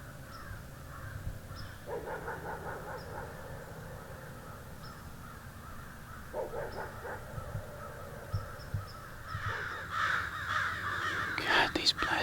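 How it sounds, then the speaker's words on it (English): Several harsh crow caws ring out at a distance over steady outdoor Tennessee woodland ambience during deer hunting, growing busier and louder toward the end, with faint murmuring in the background. "these blasted crows are driving me crazy."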